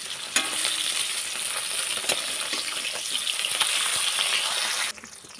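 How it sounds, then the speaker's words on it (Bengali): Live-caught fish fries in oil in a kadai with a loud, close, steady sizzle and occasional pops, then the hiss suddenly drops away near the end. "যেহেতু জ্যান্ত মাছ, বেশি কড়া করে ভাজবো না"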